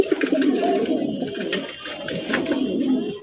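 Domestic pigeons kept for sale, including fancy colored breeds, coo loudly and close by in a continuous run of overlapping throaty calls that fills the whole stretch.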